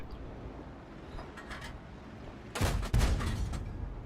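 A World of Tanks cannon shot booms out loud after faint distant shots, followed by a second heavy blast and a rumbling tail over low battlefield ambience.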